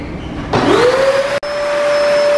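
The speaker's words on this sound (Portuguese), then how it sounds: "Agora vou passar o aspirador aqui na sala." A vacuum cleaner in a living room with wooden floors starts up with a rising whine that settles into a loud, steady motor drone. It is close and continuous, with one brief dropout, and no one talks.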